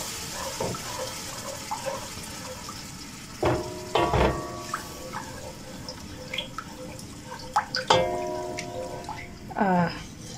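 Water trickles and drips into thick, creamy coconut cream in a kitchen while making creamy spaghetti, a few small splashy pours and drips at close range, with a voice speaking intermittently.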